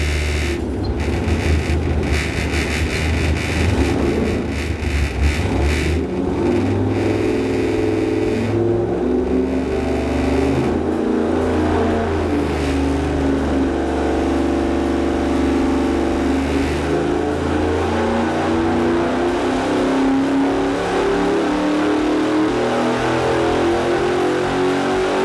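A 383 V8 engine with a Lunati Bootlegger camshaft revs hard on a dyno at Westech, a loud, sustained engine roar whose pitch climbs steadily through a long pull with no voices.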